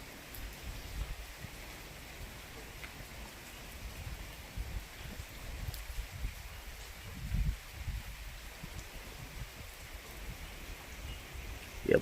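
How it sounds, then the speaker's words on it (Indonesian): Light drizzle with strong wind on the slopes of Mount Merapi during extreme weather: a fairly faint, steady wash of rain mixed with low, gusting wind rumble that swells and eases, with no one speaking. "Masih hujan gerimis saat ini."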